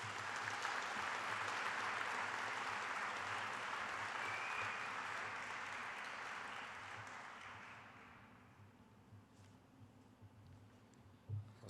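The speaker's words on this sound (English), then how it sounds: "let's give a good round of applause for the graduating class of 2020 and 2021" Audience applause at a technical school graduation ceremony for the graduating class, a sustained wash of clapping from a large crowd that gradually fades and thins out toward the end, heard from some distance.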